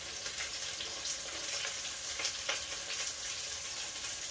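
Garlic and ginger frying in a pan for restaurant-style paneer butter masala, giving a steady, close hiss and crackle of sizzling oil that runs without a break, with no voices heard.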